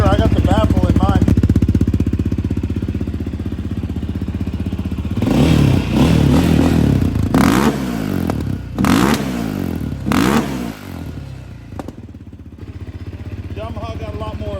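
A Yamaha Raptor 700 ATV engine, fitted with an exhaust baffle, idles loudly and then is blipped through several sharp revs that rise and fall, close by and under occasional talk.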